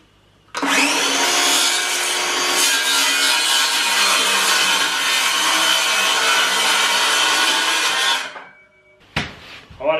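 Saw cutting through material for a homemade chicken waterer, a loud, close, continuous rasping buzz lasting about eight seconds before stopping, followed by a few brief clunks.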